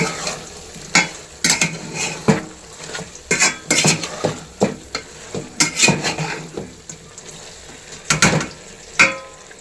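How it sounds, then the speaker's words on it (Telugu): A tablespoon of ginger-garlic paste is stirred into sizzling oil in a frying pan, with irregular metallic scrapes and clacks of the spoon against the pan over a continuous fry. "ఒక టేబుల్ స్పూన్ అలవెల్లి పేస్ట్ అయితే వేస్తున్నానండి ఒకసారి కలుపుకుందాం"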